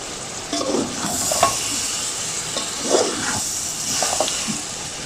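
Potatoes and eggplant with spices stirred in a sizzling pan, with steady frying hiss and a few soft scraping strokes of a spoon against the pan, no talking.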